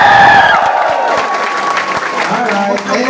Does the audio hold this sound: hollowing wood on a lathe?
no